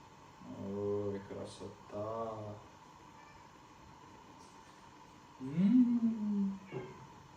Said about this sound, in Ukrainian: Аж кіт спустився, хоче покуштувати.